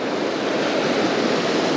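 Surf pounding a beach where anglers are fishing, a steady, loud wash of breaking waves with wind roar filling the whole stretch, no voices.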